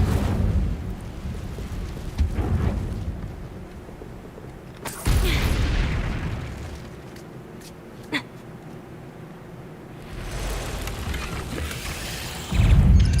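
A fire spell cast in Hogwarts Legacy, heard as a sudden whooshing burst of flame that swells and crackles against rumbling game ambience, followed by quieter stretches and another loud surge near the end.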